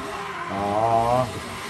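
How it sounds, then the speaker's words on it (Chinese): A Nissan S14 drift car accelerating at a 2022 Taichung drift competition, engine note rising into a sustained whining roar for under a second before dropping away, heard from the trackside at moderate distance with crowd murmur. "哇，张廷豪那个加速有起来，有速度就飞了去了"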